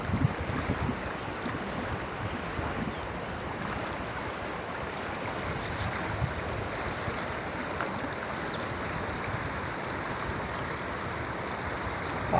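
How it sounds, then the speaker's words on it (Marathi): Fast-flowing water on a farm, heard from a distance as a steady, broad rushing wash that stays even and continuous throughout, with no voices. "पाण्याला फुल स्पीड आहे मित्रांनो। तर हे बघा किती स्पीड आहे पाण्याला।"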